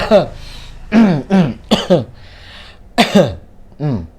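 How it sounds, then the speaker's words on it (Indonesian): A person coughs a few times in short, rough bursts, mixed with throat sounds and brief voiced noises, close to the microphone, during a Redmi 5A phone repair session indoors. "agak batuk"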